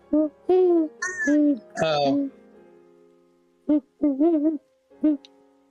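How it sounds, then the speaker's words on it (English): Tonal hooting bursts in an uneven series sound over a tabletop roleplaying game session, with a short cluster at first and more after a pause, fairly clear rather than far off. "Like an owl or something."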